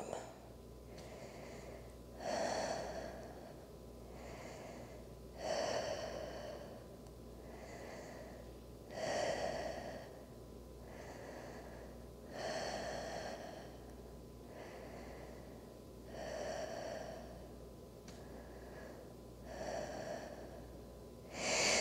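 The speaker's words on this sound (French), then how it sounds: "de respirer profondément, retrouver une respiration calme." Slow, deep breaths during a calm yoga relaxation, each inhale and exhale rising and fading in a steady rhythm about every three to four seconds, close and fairly soft with no talking.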